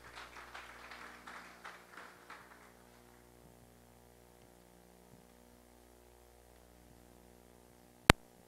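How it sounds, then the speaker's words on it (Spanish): Faint applause from a seminar audience for a presenter on yellow fever diagnosis, lasting about three seconds and fading out. A steady electrical hum continues afterward, then one sharp click near the end. "Un fuerte aplauso, por favor, para ella."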